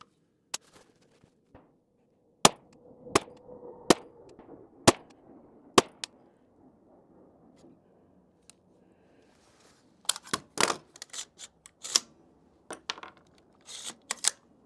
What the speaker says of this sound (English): so this will be the first shots of the Shockwave